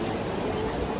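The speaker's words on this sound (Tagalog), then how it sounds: "Sobrang lakas ng ulan." Heavy rain pours down outdoors near shops in Singapore, a dense, constant hiss of downpour filling the whole moment at fairly loud level, without any talking.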